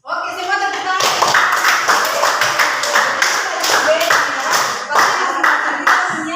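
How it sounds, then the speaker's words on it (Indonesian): A classroom of students claps hands together, a bright burst of sharp, overlapping claps in quick uneven rhythm, loud and close, with voices mixed in. "Oke, semua tepuk tangan."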